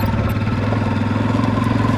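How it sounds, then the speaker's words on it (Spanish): A motorcycle engine idles steadily close by after being started, with a constant low throbbing rumble and no voices. "Vamos a prender la moto y ya nos vamos a ir."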